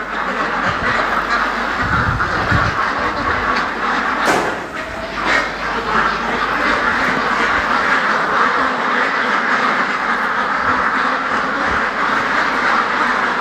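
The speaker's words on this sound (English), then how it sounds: "So these ducks have been selected for slaughtering." A large flock of ducks in a holding area on a free-range duck farm quack constantly and loudly, a dense overlapping din with no break.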